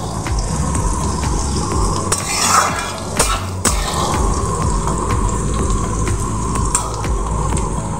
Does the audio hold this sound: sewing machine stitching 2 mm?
no